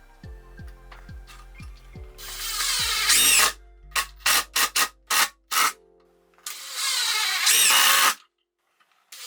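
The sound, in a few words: power drill driving screws into wood offcuts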